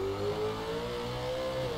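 A V8 Supercar engine in the rFactor 2 racing game revs in a short, steady burst, its smooth pitch gently rising and falling, loud and close with no talk.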